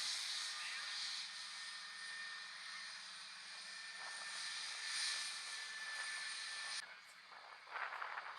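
A Ryanair Boeing 737-800 taxis at Manchester Airport, its jet engines giving a steady, fairly loud whine and rumble that holds throughout, then shifts and drops slightly near the end.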